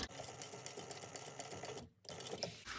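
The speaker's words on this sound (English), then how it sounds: "you're just going to sew this on at 1/8 of an inch" A sewing machine stitching fabric at a fine seam, a fast steady mechanical whirr up close that stops briefly, then resumes.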